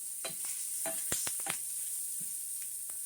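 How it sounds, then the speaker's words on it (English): Onions brown in a hot, smoky pan for a Spanish omelette, giving a bright, constant sizzle broken by several sharp scrapes and clicks of stirring, close and without speech. "let's go ahead and throw in some of the onions, so we can get those browned up a little bit"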